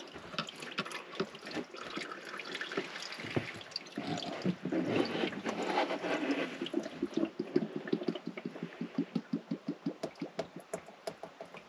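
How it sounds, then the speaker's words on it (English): Transmission oil from a 62TE in a Ram ProMaster runs out of the removed filter. A quiet, muffled trickle turns into a steady, rhythmic dripping that speeds up toward the end. "And that noise is the oil running out of the filter."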